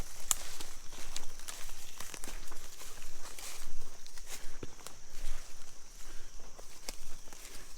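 Footsteps crunch steadily through leaves and brush along a wooded path away from any trail, a near, continuous walking rhythm with small crackles and no voices.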